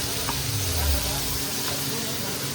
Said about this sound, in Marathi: कोळंबी तवा फ्राय आणि कोळंबी फ्राय पण चालू आहे